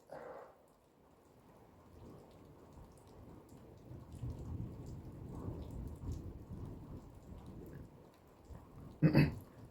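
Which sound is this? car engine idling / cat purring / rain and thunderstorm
rain and thunderstorm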